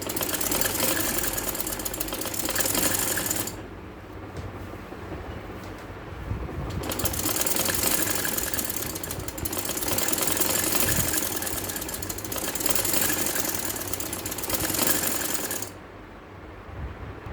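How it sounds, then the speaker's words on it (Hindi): A sewing machine double-stitches lace onto a kameez in long continuous runs of rapid rhythmic whirring, close and loud, with brief pauses between bursts. "यहाँ से आप डबल सिलाई करें।"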